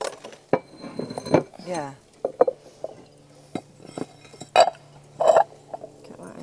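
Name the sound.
bowl being put down underneath something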